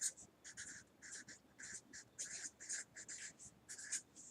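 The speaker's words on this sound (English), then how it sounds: "I got a different colored pencil." A colored pencil scratching across paper in short, rhythmic strokes, faint and close, repeating roughly twice a second with small gaps, no voice over it.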